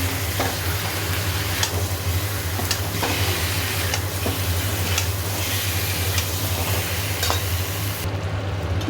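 Chicken leg pieces with turmeric, chilli and cumin powders, salt and sugar sizzle in a pan, stirred with regular scraping strokes about once a second over a steady frying hiss, close up and without speech.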